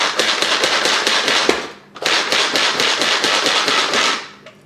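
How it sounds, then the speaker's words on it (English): A hand-pumped manual food processor chopping fresh cilantro makes quick, evenly spaced clacks, in two brisk runs with a brief pause between them before trailing off. "I'm going to stick it in my manual food processor"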